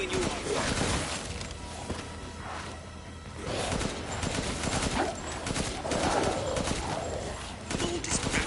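Soldiers firing at bioweapons in Resident Evil Village: scattered bursts of gunfire crack at mid distance amid chaotic combat noise, with voices talking over the fighting.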